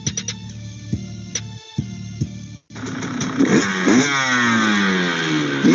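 Two-stroke gasoline engine running, sharp idle pops giving way to a loud, rising rev with a steady buzzing drone, close and with no voices.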